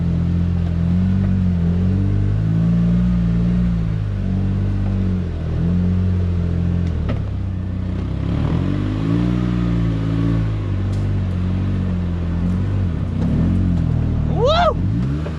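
A Polaris Ranger 1500 XD side-by-side engine drones and revs steadily on a rough off-road trail, a continuous loud rumble with rising and falling pitch, occasional clatter and a brief high whine near the end.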